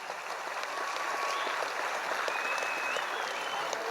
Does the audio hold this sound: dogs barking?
no